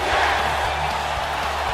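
Crowd noise from a Brooklyn arena in WWE 2K19, a dense, steady roar of fans chanting in unison throughout, loud and continuous with no distinct voice standing out.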